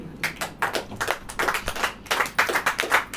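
A church congregation claps their hands in uneven bursts during a Hindi sermon, with several short rhythmic volleys of clapping, close and moderately loud.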